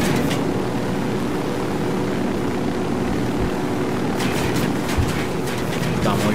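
Helicopters in Ghost Recon Wildlands during an aerial fight, a steady loud rotor and engine drone throughout, with someone talking over it and a few bursts of gunfire near the end.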